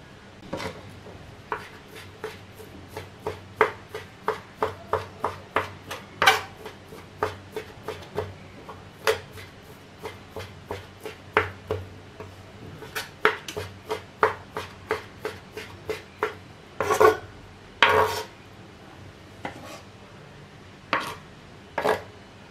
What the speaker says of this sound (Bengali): পুরো মাংসটাকে এভাবে আমি ছোট ছোট টুকরো করে কেটে নেব।